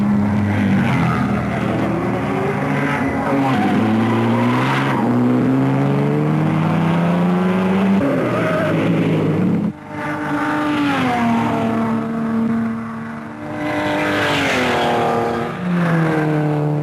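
Race cars at the 1955 Le Mans race, including TR2s and MGs, roar past one after another, engines rising and falling in pitch as they approach and recede, loud and close with no talk.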